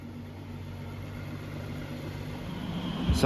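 A 2016 Ferrari V12 engine in a 1968 Ferrari P4 replica idles with a low, steady quiet hum throughout, an even mechanical drone with a slight thump right at the end.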